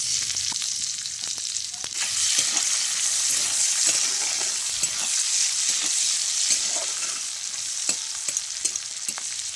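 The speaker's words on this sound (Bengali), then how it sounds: "পেঁয়াজটা ভাজা হতে থাক" Steady hiss of onions frying in a pan over a clay stove, with scattered pops and crackles and occasional stirring clatter throughout.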